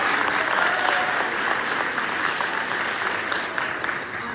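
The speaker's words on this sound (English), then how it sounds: "I almost cut off his applause." Audience applause at a college political debate event, a dense burst of clapping from a crowd that stays strong and then tapers slightly, with some talk beneath it.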